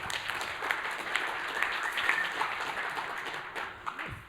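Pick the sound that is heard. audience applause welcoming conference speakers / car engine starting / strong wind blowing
audience applause welcoming conference speakers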